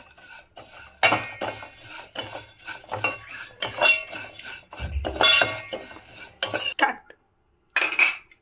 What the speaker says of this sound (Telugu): ఇప్పుడు మనము ఇంకో గిన్నెలో సేమియాలు వేపుకుందాము.